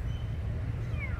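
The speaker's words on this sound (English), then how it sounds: "look at this little kitty." A small kitten, apparently with damaged eyes, gives a faint, thin meow toward the end of a short stretch of low background rumble.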